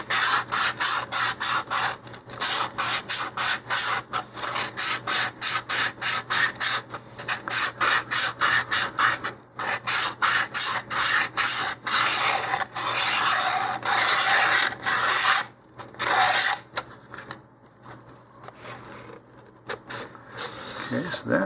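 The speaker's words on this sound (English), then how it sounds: "we're going to need to do a little bit of sanding on the inside here" Steady rasping sanding strokes on the inside of a cardboard model-rocket tube, repeated rapidly and rhythmically for a long stretch, close by, with brief pauses between bursts.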